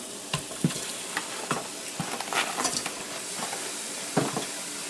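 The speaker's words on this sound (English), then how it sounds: "you can have it open and just put it on a low setting time wise just to brown up the meat" Pork browning in an open pressure cooker on a low setting, a steady close sizzle and hiss of frying meat broken by several sharp stirring clatters, with no talking.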